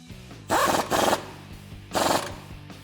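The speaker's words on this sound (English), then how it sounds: "let's tighten up the bottom nut here with a 15/16 socket" A 15/16 socket tightens the bottom suspension nut on a 2004-2013 Ford F-150 during a front leveling kit install, heard as three short, close ratcheting bursts with quiet pauses between them.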